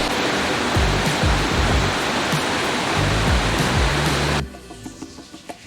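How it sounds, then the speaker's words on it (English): Waterfall in New Zealand's North Island, a steady broadband roar of falling water heard from a distance, continuous and fairly loud before cutting off abruptly near the end. "you can actually see the waterfall from here"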